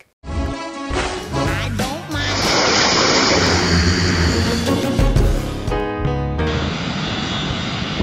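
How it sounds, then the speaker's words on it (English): The engines of a Delta MD-88 airliner roar loudly and steadily as the jet turns onto the runway, a broad rushing drone that swells and holds throughout. "Watch closely as the plane turns onto the runway."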